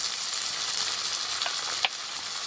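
Chicken curry masala fries in hot oil with ginger-garlic paste, coriander, cumin and chili powder, giving a steady close sizzle and one brief scrape of a spoon.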